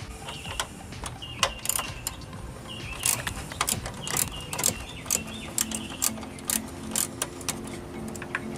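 A ratchet clicks on a radiator bolt of a 2000 Pontiac Bonneville in a cramped engine bay, with quick bursts of sharp metallic ticks and clinks in an uneven rhythm, close by and moderately quiet.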